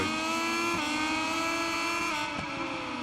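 Racing motorcycle engine in the MotoGP 21 video game at Losail, Qatar, a loud sustained high-pitched whine holding steady with slight pitch dips as the throttle eases.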